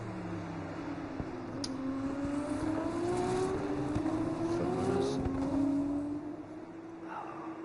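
Race cars at a Formula 2 round in Canada circle the track together, a steady sustained engine roar with rising and falling pitch sweeps as cars pass, continuous and fairly loud throughout.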